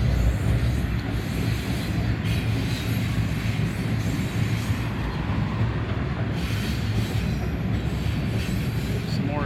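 A freight train of ethanol tank cars rolls past nearby, a loud continuous rumble and rattle of wheels on rails with faint wheel squeals, steady throughout.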